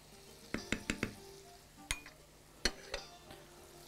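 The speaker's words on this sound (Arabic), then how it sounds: "معلقة ملح ونقلبه كده" A spoon stirs chicken shish tawook with salt in a pot, making a quick run of close metallic scrapes and clinks and then a few scattered knocks, over a faint sizzle.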